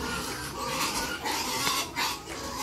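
Pig grunting in the yard behind an ancestral house in La Union, with a busy, continuous noisy background and irregular bursts; several grunts over close, loud ambience.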